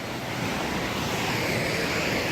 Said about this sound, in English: Here's a little tiny waterfall.